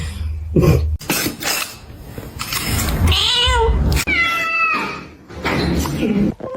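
A cat meows several times, drawn-out wavering cries up close, mixed with coughing and other noisy handling sounds.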